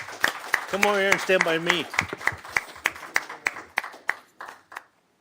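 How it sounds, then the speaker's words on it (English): A few people clap at a Gila County board of supervisors meeting, starting under talk and continuing as sparse, uneven hand claps that thin out and stop. "We were just going to stand back here and clap."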